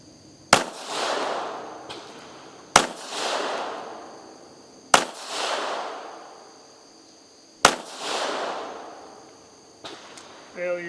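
Four sharp, loud shots from a SCCY CPX-3 .380 auto pistol, evenly spaced about two seconds apart, each followed by a ringing outdoor echo, with a brief voice at the end.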